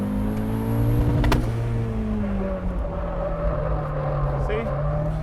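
A Flying Miata turbocharged Mazda Miata drifts on a track, its engine droning steadily with shifting pitch and a brief sharp spike early on, heard from inside the car under a talking voice.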